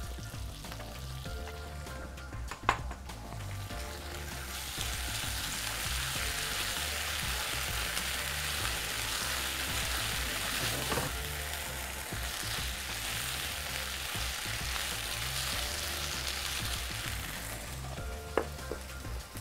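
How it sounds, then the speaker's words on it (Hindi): Ginger garlic paste sizzles and fries in a pan for biryani, a steady close hiss with a rain-like crackle that swells midway, with occasional faint clicks of a utensil. "साथ ही में डालेंगे अदरक लहसुन का पेस्ट"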